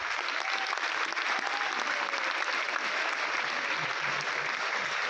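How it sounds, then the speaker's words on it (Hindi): An audience at a company celebration in Sargodha claps loudly and steadily, a dense wall of applause from the crowd that holds without a break. "भी लंगड़ियाल साहब और अमजद साहब जरा स्टेज पे आ जाए एक ज़ोरदार तालियों में।"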